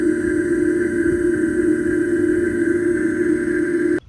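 Steady electronic hum from the pedestrian warning speaker of a 2021 Jeep Wrangler 4xe plug-in hybrid, close and even with layered tones, cutting off abruptly at the end.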